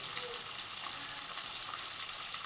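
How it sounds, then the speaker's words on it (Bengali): Small guru fish frying in oil, a dense, even sizzle filling the short stretch without pause or voices. "মাছগুলো অল্প অল্প করে ভেজে নেব যেহেতু ছোটো মাছ সেহেতু লেগে যেতে পারে"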